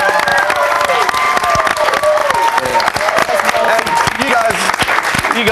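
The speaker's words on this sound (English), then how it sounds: "So give those guys a round of applause." A crowd applauds and cheers steadily at a gathering at Monte Cristo Homestead in Junee, New South Wales, with loud continuous clapping, shouts and whoops throughout, and voices talking over it.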